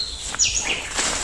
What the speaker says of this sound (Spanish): se escucha pájaros cantar naturalistas